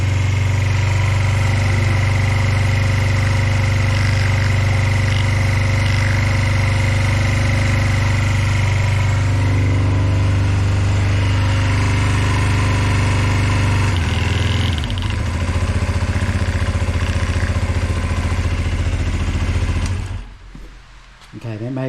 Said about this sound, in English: The idle's still not quite right, but it's not missing anymore.